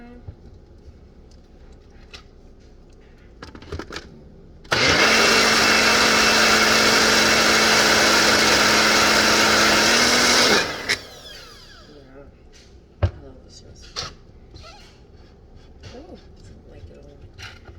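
A Ninja blender roars loudly and steadily for about six seconds, then winds down, with quieter kitchen clatter and handling noises before and after.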